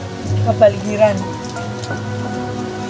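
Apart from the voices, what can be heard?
rain falling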